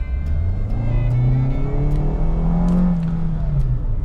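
A 2023 Suzuki Ertiga Hybrid mild-hybrid family car pulling from 20 to 40, heard from inside as a loud engine note rising steadily in pitch then easing, with a few light clicks and no talking.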